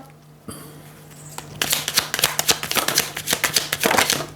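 Tarot cards shuffled close up by hand, a brief rustle then a long run of quick crisp riffling flicks, a few cards slipping loose and falling.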